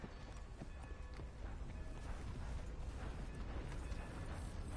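Horse hooves clip-clop steadily at a trot in the video game Red Dead Redemption 2, fairly faint and continuous, with a low rumbling background.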